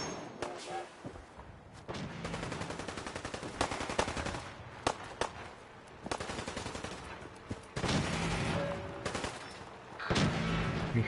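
Fallout 4 gunfight: bursts of automatic gunfire and single shots crack repeatedly, some close and loud, others further off, with short pauses between volleys.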